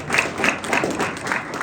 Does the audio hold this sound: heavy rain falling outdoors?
no